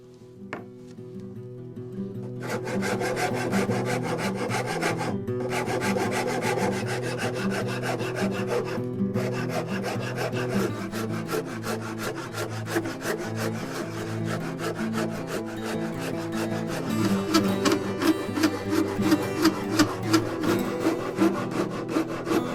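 Half-round file shaping the plunge line on a handmade wooden sword, a continuous rapid rasping stroke that stays close and loud, with a faster scraping rhythm toward the end.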